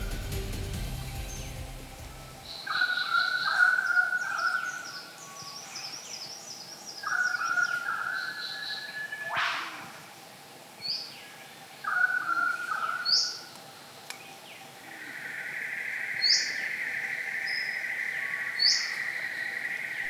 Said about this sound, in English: I was very excited to see one of the brush turkeys